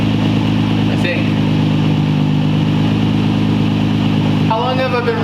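Nissan G35 Coupe with a VQ35DE V6 and Tomei Expreme Titanium exhaust idling loudly and steadily up close, with a short blip near the start and a rising rev at the end.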